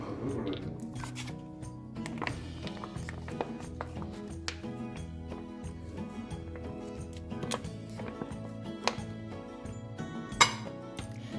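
Sauces being mixed with vinegar and chili garlic sauce in a bowl, with steady clinking and tapping of a spoon against the bowl under a continuous low hum, nearby.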